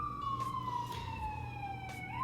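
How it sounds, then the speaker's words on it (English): An ambulance siren passes outside during a live coding stream, a steady falling wail that is clearly audible but somewhat distant, with no talk over it. "There goes an ambulance. That is real. You're hearing that in real time."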